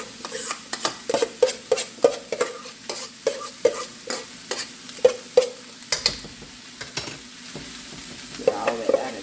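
Rice is stir-fried in a hot wok for vegan fried rice, a utensil striking and scraping the metal in a fast rhythmic series of clanks over a continuous sizzle, easing near the end.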